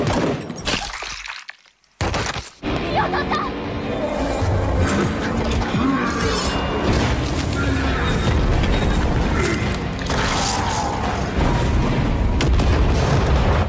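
A gunshot rings out in an animated film, a loud boom-like crack after a brief hush, followed by a dense, sustained wash of action effects and music with a voice faintly present.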